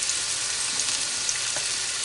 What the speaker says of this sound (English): that sizzling sound.